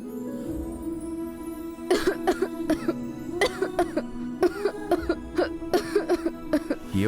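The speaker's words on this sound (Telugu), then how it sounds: "ఏమొచ్చింది? అలా దగ్గుతున్నావు?" A person coughs repeatedly, a series of about a dozen harsh, close coughs in uneven bursts after a short stretch of low background hum.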